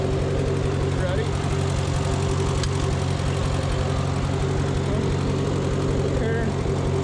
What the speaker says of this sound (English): There's your mower. Watch this.